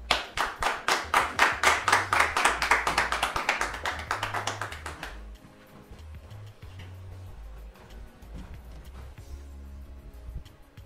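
Audience applause for guests at a French-speaking church gathering, with a burst of rapid, fairly close clapping that lasts about five seconds, then breaks off into a quieter room with a low hum.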